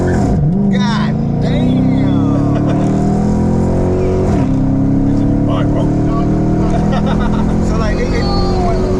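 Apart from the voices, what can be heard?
modded Chrysler 300 revving, wheels spinning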